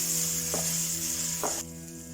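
Masala for Kerala prawn curry fries gently in a pan on low flame, a soft continuous hiss with two brief scraping stirs before the sizzle abruptly drops quieter.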